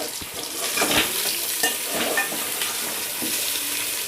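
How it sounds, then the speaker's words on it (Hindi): Pieces of chicken fry with lightly browned onions in a pot for pulao, giving a steady close sizzle with occasional stirring scrapes. "इसको 2 से 3 मिनट में फ्राई करूँगी।"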